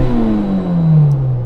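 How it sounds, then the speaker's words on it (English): A Toyota 86, Mazda NC Roadster or Honda S2000 engine revs up while the car is stationary, a loud, steady tone climbing in pitch toward the red line and holding close to the microphone. "What can you rev up to when you're stationary?"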